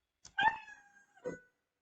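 Cartoon cat meow sound effect playing in a Scratch programming project, two short synthetic meows separated by a brief pause, clean and isolated against silence.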